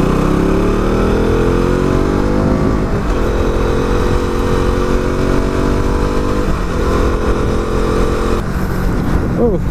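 A KTM motorcycle engine drones loud and steady while riding, rising in pitch three times as it accelerates through the gears, with wind rush underneath.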